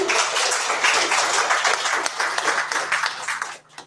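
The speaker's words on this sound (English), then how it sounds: "So please give a round of applause to the founders on the stage here today." An audience claps steadily for the founders on stage at a New York tech panel. The applause is dense and sustained, then thins out and fades at the very end.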